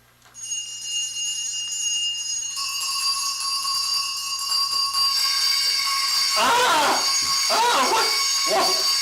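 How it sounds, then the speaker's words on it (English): Many bells ring together in a dense, continuous jangle that grows louder, joined near the end by a few shouted voices. "Every bell in the house must be ringing."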